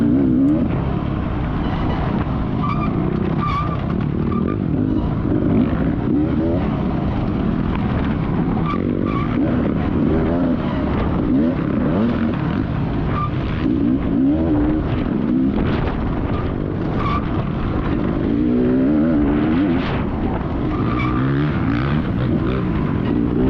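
Two-stroke dirt bike engines race in a GNCC masters 50+ morning event in Millfield, Ohio, a continuous close buzzing roar that rises and falls with throttle, loud throughout with no talking.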